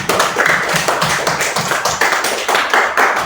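Classroom pupils clapping for a classmate's correct answer, a loud, close, rhythmic burst of many hands beating together in a steady, repeating pulse.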